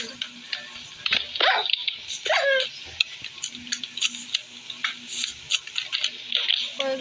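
A pet dog in the video game Minecraft barks in short, scattered yelps over a busy bed of clicks and game noise, with a brief stretch of voice partway through.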